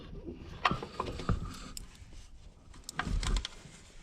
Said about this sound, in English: So we'll go down there, 3/8 ratchet.